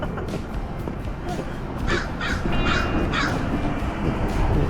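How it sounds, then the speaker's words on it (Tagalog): A crow caws several times in a row, harsh repeated calls over a busy outdoor background of low rumble on the University of Washington campus. "May makikita kayo yung uwak."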